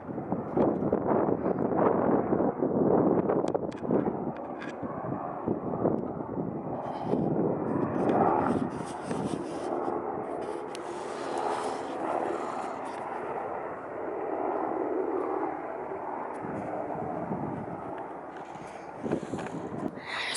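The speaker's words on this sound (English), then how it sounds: "Here comes another helicopter." A low rumbling aircraft drone passes overhead, loud at first and slowly fading, with wind-like roar and no talking.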